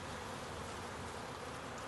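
Dense, steady buzzing of many honeybees at an open beehive with an incoming swarm, a continuous close drone filling the whole stretch with no voices.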